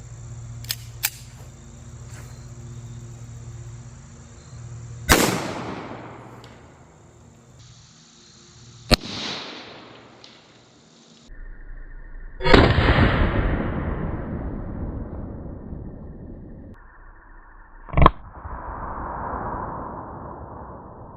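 Four sharp, loud .45 ACP pistol shots fired outdoors at pumpkins, spaced several seconds apart, each crack ringing out with a quick decaying echo over quiet background noise.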